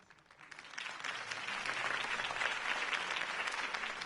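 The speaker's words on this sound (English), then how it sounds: "could have heard that applause" A crowd applauds in the video game Batman: The Telltale Series, the clapping rising quickly from quiet to a steady, full round that continues without pause.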